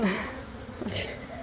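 Dense, continuous buzzing from a swarm of bees in a hive built inside a house wall, loud and close up, with no voices over it.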